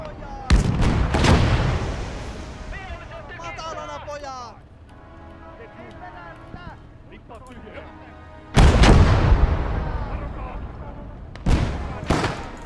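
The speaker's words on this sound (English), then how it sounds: "The mortars are doing good" Mortar rounds fire and explode in a war video game, heavy booming blasts near the start and again near the end, with someone talking over the quieter middle stretch.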